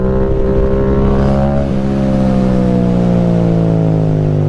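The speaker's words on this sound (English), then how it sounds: "that was a power up with a shift into third gear in the middle of the wheelie" A motorcycle powering up into a wheelie and shifting into third gear, its loud engine droning close with rising revs, a brief dip at the gear change, then pulling steadily higher again.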